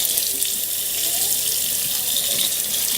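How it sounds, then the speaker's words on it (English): Kitchen tap water runs steadily into a sink over frozen spinach being broken up to defrost, a continuous close hiss with no speech. "I'm just breaking this up a little bit to try and give it some more surface area for the water to hit"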